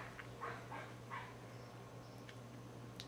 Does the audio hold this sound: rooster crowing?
no